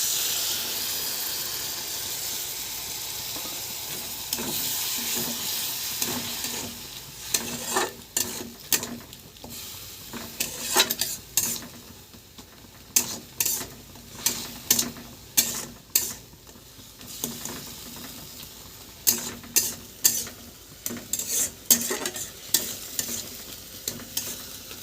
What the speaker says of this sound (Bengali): মশলাটাকে একটু কষিয়ে নেব ভালোভাবে।